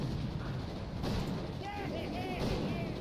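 A super cannon fires in a video game, producing rough, booming blasts over a continuous noisy din, with sharper bursts standing out along the way.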